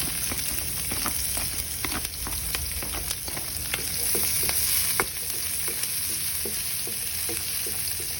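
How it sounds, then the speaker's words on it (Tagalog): Onions sauté in a hot pan for chicken mechado, giving a steady, loud sizzle broken by regular scraping stir strokes, with no talking over it. "we're gonna saute the onions"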